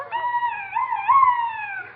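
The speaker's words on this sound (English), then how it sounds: "That noise was a duck call" A duck call gives a reedy, wavering call blown in one long drawn-out note, rising and dipping slightly in pitch, fairly loud and close.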